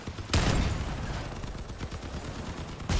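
Enemies firing on a player's tank in Crossout, two loud gunshot impacts, one early and one at the end, with a rattling stream of smaller hits and game noise in between.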